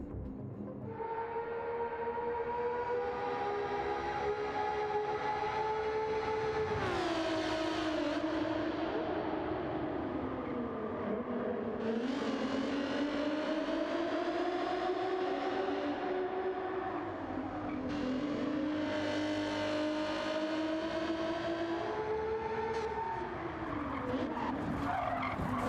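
An Alfa 155 race car, a GR4 car, laps the Nürburgring asphalt circuit in a racing video game, its engine droning loud and steady throughout with rising and falling pitch through gear changes and tire squeal in corners.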